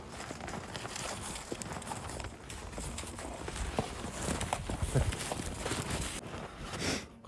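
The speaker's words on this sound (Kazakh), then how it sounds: "Жылқыларымыз жайлап осылай жейді." Horses feed outdoors in winter pasture, with a steady dense bed of munching, shuffling hooves and rustling close by, continuous throughout with no speech.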